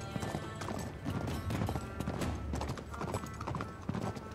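Hooves clip-clop at a gallop from a horse in Uncharted 3: Drake's Deception, a dense, fast rhythmic pounding close by with a horse neighing, the whole thing fairly quiet.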